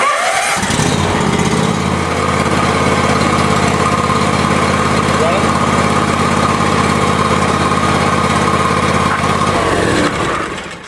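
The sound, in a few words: lawn mower engine started and idling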